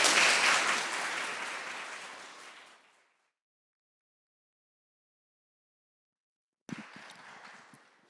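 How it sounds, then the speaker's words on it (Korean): A church congregation at a Sunday service applauds to welcome the pastor; full, dense clapping fades away over about three seconds, falls silent, then a shorter burst of clapping and movement follows. "우리 목사님 박수하며 모실까요?"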